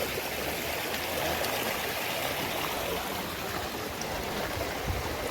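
Floodwater pours steadily over a fully blocked cement road after heavy rain in a low-lying residential area, a loud continuous rushing close by with no break and no voices.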